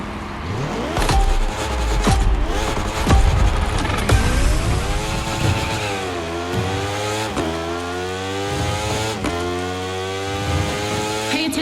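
Racing motorcycle engines in The Crew Motorfest video game scream loudly and continuously, the revs rising and falling through repeated gear changes.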